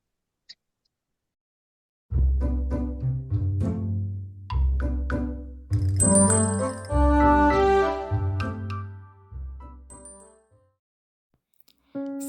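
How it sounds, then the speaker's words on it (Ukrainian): A school bell at the Berdiansk gymnasium No. 11 Last Bell celebration sounds as a clear, ringing chime melody of several sustained tones that plays for about eight seconds and then stops, with no voices. "поки ми чуємо шкільний дзвоник"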